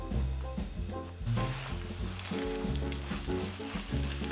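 A just-flipped pork cutlet sizzles in a thin layer of oil in a flat frying pan over gentle heat, a soft continuous hiss running beneath tonal background music.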